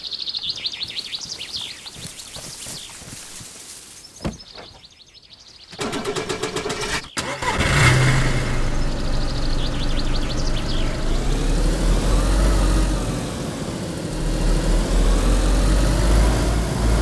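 A car engine cranks and catches in DayZ, then settles into a steady, loud idle and run that fills the rest of the stretch, with birdsong heard early on before the start.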